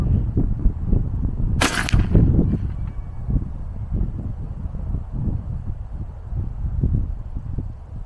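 A single sharp crack from an AEA Zeus .58 caliber airgun fired outdoors in a brief burst, then steady wind rumble and faint low thumps for several seconds.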